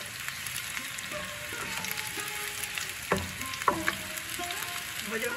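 Potatoes frying in a pan for aloor dum, a steady sizzle of hot oil with a few sharper clinks of a spoon or spatula stirring, close and alone.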